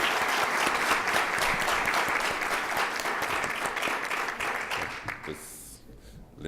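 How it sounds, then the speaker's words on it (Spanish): An audience at a talk by Father Jesús Quirce Andrés gives a strong round of applause for two presenters, a dense sustained clapping that fades out near the end as a voice begins. "Un fuerte aplauso a nuestros dos expositores."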